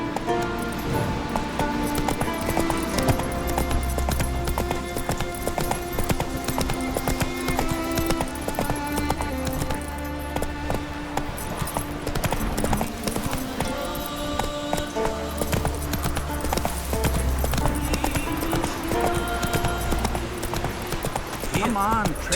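Horse hooves clip-clop steadily while riding in The Witcher 3, a continuous trotting rhythm under game music and occasional voiced dialogue.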